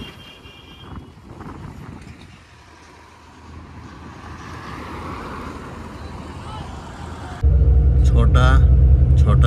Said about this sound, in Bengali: এখানে প্রচুর ইঞ্জিনের আওয়াজ